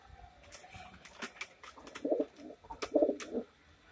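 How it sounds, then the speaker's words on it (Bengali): Racing pigeons coo in short repeated throaty bursts, two or three clear rounds close by, with light shuffling and clicking sounds around them. "এটাও পাল্লার কবুতর।"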